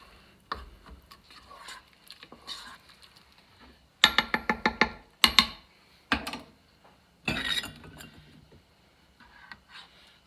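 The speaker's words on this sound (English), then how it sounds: "you just want to give the rice just a stir to break any of it up" Rice pudding being stirred in an Instant Pot, with a spoon scraping and clinking against the inner pot in irregular bursts of sharp taps and rattles between quieter stretches.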